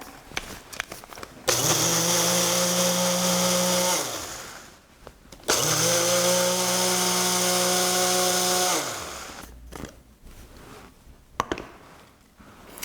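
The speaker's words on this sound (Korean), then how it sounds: "물이 있어야 이게 곱게 갈리니까 반 컵만 부어서 곱게 갈겠습니다" A blender grinds rice with water in two long whirring bursts of about three seconds each, loud and close, motor pitch dropping as each stops, with clattering between.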